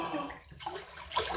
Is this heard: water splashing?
yes